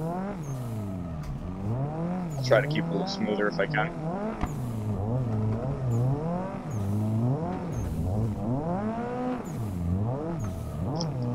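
Race car engines rev and whine in the racing game Assetto Corsa, rising and falling in pitch through repeated throttle bursts, with someone talking over them.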